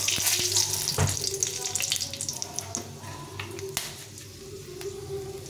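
Dry red chillies hit hot oil in a wok, with a loud crackling sizzle at first that settles into a steadier, softer frying hiss.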